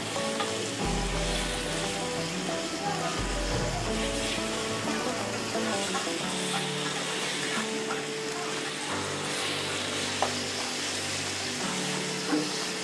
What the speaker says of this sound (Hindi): जब तक आपकी चिकन वाइट ना हो जाए आप इसको मिक्सअप करते रहें।